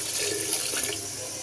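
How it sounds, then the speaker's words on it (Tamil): Water poured into a pot of mango sambar while cooking, a brief steady splashing pour heard up close and alone. "கிளறினதுக்கப்புறமேட்டு இதில் வந்து தண்ணி சேர்த்துக்கலாம்."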